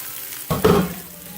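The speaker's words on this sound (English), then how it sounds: "I'm just going to let those onions finish cooking for the last maybe 4 minutes" Onions frying in a pan for home fries give a soft, close sizzle, with a brief stirring scrape and a short louder burst midway before settling back to a gentle fry.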